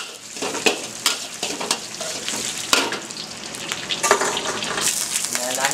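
Onions and garlic browning in a hot pan, a close, busy sizzle with repeated scraping and stirring clatter, a voice faintly under it.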